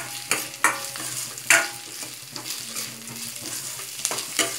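Poha upma with green chilies fries in a pan as it is stirred, the steady sizzle broken by several sharp scraping strokes of the spoon, close and moderately loud, with no talking.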